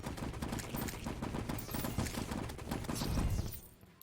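Rapid gunfire from pirates shooting back in the Terraria video game, with a steady stream of quick shots and pops that thin out and stop near the end, fairly quiet overall.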